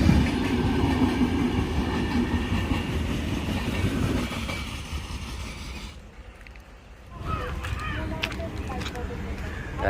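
A train at Alappuzha railway station in Kerala rumbles and clatters loudly before easing off, with voices and faint birds around the platform.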